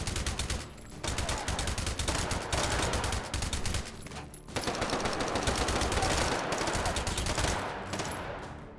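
Pistol fire in the VR shooter H3VR, dense rapid bursts of sharp shots in two long volleys separated by brief pauses, loud and close with no talking.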